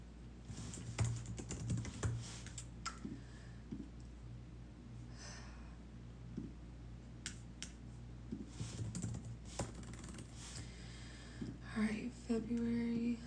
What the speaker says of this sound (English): I'm literally typing in, like,